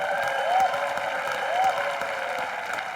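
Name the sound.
audience applause for the two daughters-in-law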